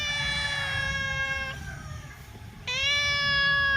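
A house cat meows loudly and up close in two long drawn-out cries with a quiet gap between them. It sounds insistent and whining, with no voices over it.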